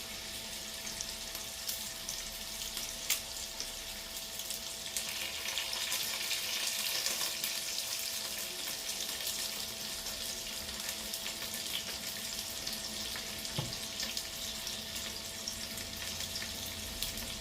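Onions gently sautéing in a pan for veal paupiettes, a steady soft broadband sizzle and crackle that holds at an even level throughout, close and continuous with no talking.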